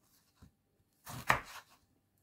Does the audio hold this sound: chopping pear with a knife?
yes